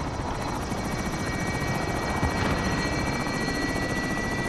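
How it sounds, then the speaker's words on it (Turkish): A helicopter called in during Call of Duty Warzone on PS4 thumps steadily with rapid rotor chopping and engine whine, loud and continuous throughout, with no talk. "Bir helikopteri çağırmış."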